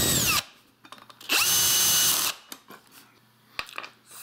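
A power screwdriver drives screws while assembling an archery carbon arrow shaft cutter, with two loud close whirring bursts, the second longer, followed by scattered clicks and taps of parts being handled.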